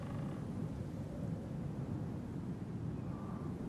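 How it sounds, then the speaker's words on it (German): A thunderstorm in the survival video game Icarus, a continuous low rumbling roar of thunder and rain that stays dense and even throughout, with no talk. "Jetzt muss ich warten, bis der Sturm sich legt."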